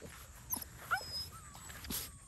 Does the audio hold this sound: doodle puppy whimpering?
yes